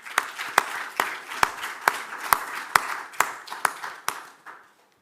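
Sparse, rhythmic clapping greets a speaker at a pickleball world rankings launch event. The sharp separate claps come about twice a second, steady and fairly close, then fade out.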